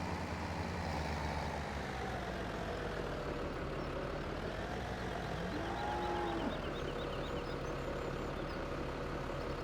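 Cows moo in long, low calls from a barn in Farming Simulator 17, layered over a steady machine-like drone, with several moos overlapping at a moderate distance.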